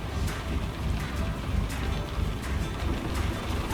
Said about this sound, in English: Although it's absolutely hammering down with rain